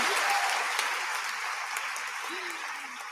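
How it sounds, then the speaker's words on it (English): A large audience at an evening speaker event applauds steadily, a continuous wash of many hands clapping at moderate distance, slowly easing in level. "One more round of applause for them."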